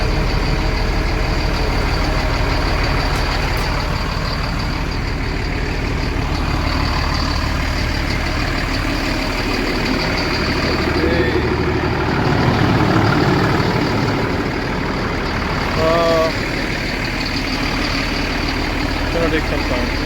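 A diesel truck engine idles steadily in the morning with its exhaust steaming, a constant loud low rumble filling the whole stretch while a voice talks over it.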